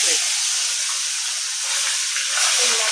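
Koi fish dropped into hot oil in a home kitchen, giving a loud, steady broadband sizzle and hiss that runs unbroken throughout with no talking.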